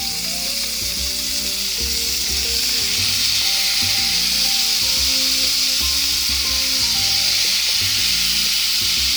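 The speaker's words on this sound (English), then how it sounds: "Oh yeah, that's the sizzle." Loud, constant sizzling of tuna steaks frying in a hot pan, a bright crackling hiss that holds steady throughout with no talking.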